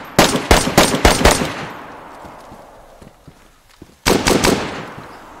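Guns fire in the survival video game DayZ: a loud rapid burst of about six shots, a quieter stretch with faint distant pops, then another close rapid burst of four or five shots.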